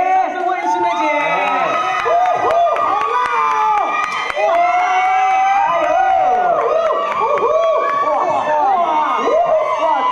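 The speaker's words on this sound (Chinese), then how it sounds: "掌声欢迎心梅姐" A large press-event crowd cheers, whoops and applauds as the fashion host Lan Xinmei is welcomed on stage at a charity fundraising launch, a dense, loud and sustained roar of voices and clapping.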